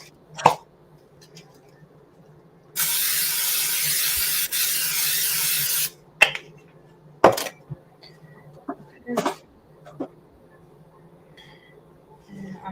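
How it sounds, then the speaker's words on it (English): Cooking spray hisses into a casserole dish in one sustained burst of about three seconds, close and loud, with brief handling knocks before and after. "Spray it with some cooking spray."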